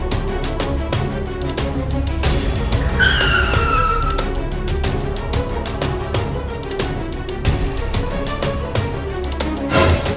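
A car pulls away at speed, its engine roaring and tires squealing and skidding, loud and close for several seconds amid a rough, noisy rumble.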